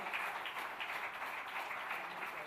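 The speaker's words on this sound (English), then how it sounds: "we give a thunderous round of applause to all our teams here" Thunderous round of applause for the teams at the Grand National Finale of the HDFC ERGO Insurance Awareness Award Junior 2024, a steady wash of many hands clapping, moderately distant and continuous throughout.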